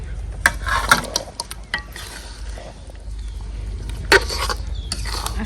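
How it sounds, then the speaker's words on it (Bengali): Chicken roast pieces go into a pan of cooked-down masala with yogurt, a steady close sizzle under clattering scrapes and knocks of a spoon against the pot, with one sharp clank near the end. "রোস্টের মশলাটা কষানো হয়েছে আর এখন রোস্টগুলো দিয়ে দিই"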